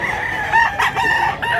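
A Hatch Hennei gamecock crows loudly and up close in a single short, harmonic cock-a-doodle-doo with a few choppy breaks.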